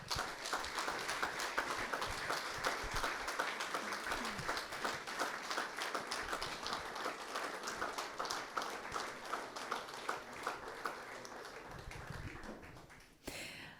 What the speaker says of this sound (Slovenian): In še enkrat aplavz.